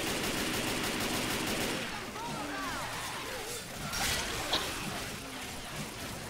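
Shotgun fire in Left 4 Dead 2, a loud dense burst of shots at the start that thins into scattered blasts among clatter, with a voice talking over parts of it.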